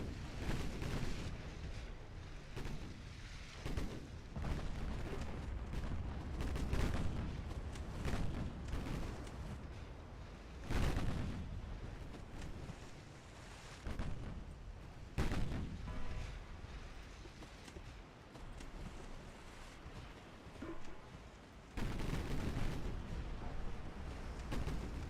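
Battleship main guns fire in the naval game Ultimate Admiral Dreadnoughts, heavy booming salvos and explosions repeating irregularly over a low rumbling battle bed, several sharp loud blasts standing out.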